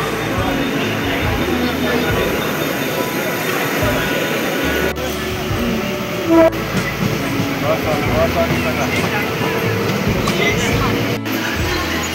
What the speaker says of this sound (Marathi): आता जस्ट गाडी आली आपली